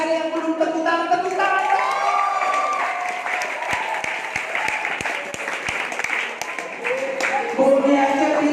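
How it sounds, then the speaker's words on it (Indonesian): Audience in a church clapping at an evening prayer service, steady applause with several sharp individual claps standing out, mixed under continuous overlapping voices and talk throughout. "Kok masih ada yang belum tepuk tangan dong?"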